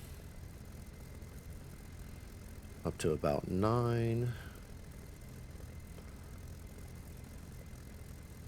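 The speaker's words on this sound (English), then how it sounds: "Warming up the engine" In the DCS flight simulator, a Bf 109 K4's engine catches with a few sharp coughs and a brief rising roar over a low steady hum, then settles back to quiet, with someone talking nearby.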